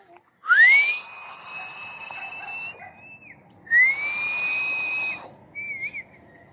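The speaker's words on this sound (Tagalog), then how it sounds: "Sa ngayon, sipol muna ulit tayo mga kamatik." A person whistles two long, clear sustained notes, each sliding up to a steady pitch, followed by a short quieter wavering whistle, close and alone against near silence.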